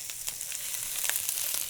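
Onions sizzling in a hot pan, giving a steady, close crackle and hiss with small pops scattered throughout.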